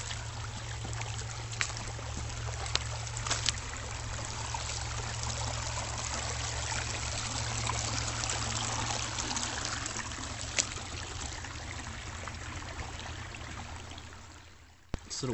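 Small waterfalls in a rocky East Texas creek trickle and splash continuously, a steady nearby burble with a low background hum and no talking.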